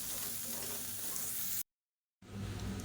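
Mixer grinder grinding coconut chutney with salt, a dense whirring roar that stops abruptly for about half a second and then starts up again, close and loud.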